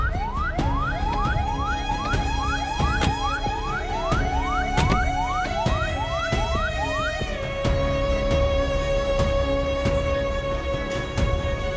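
An emergency siren wailing continuously, first with rapid rising sweeps, then shifting into a steadier tone, loud and close with no speech.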